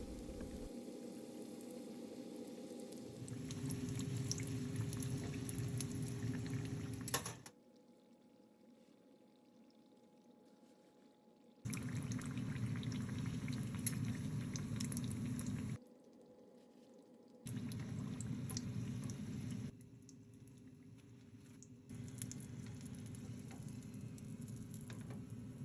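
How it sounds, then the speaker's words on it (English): Samosas frying in hot oil give a steady, dense sizzle that comes and goes in several long stretches, with quieter gaps between them. "so I'm just going to fry these."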